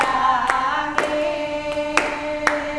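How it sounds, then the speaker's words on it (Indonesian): An audience claps in a slow, even beat, with about five crisp claps over sustained tones. "Tepuk tangan."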